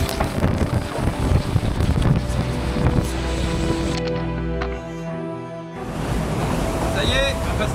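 Ocean swell and strong wind around a racing sailboat, with a loud continuous roar of wind buffeting the microphone and waves rushing past, briefly easing before surging again.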